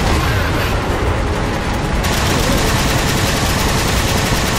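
Sustained heavy gunfire and booming blasts in the Halo video game, a dense, loud, continuous wall of rapid shots and explosions with no pauses, no talking.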